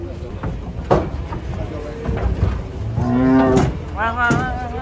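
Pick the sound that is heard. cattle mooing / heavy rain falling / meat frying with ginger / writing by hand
cattle mooing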